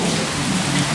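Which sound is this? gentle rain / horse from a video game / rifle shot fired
gentle rain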